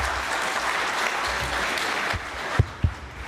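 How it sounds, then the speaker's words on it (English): Audience applause fills a hall at a leadership talk, a dense, steady wash of clapping that fades near the end, followed by a couple of brief thumps. "Give him applause."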